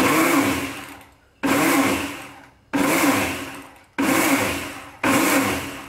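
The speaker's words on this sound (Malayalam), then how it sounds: "ഇനി ഇത് വീണ്ടും വിപ്പ് ചെയ്തെടുക്കാം." A mixer grinder whips mayonnaise with oil in repeated pulses, giving five loud, close whirring bursts of about a second each, each one fading slightly, with brief gaps between them.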